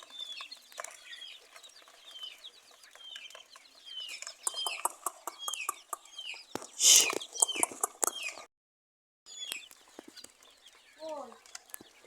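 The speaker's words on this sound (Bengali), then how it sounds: "এর সঙ্গে কিছু দেশি মুরগির বাচ্চাও আছে" Native chicks peep steadily and rapidly while native hens cluck nearby on a farm, rising to a brief louder flurry before a short silence, then more peeping.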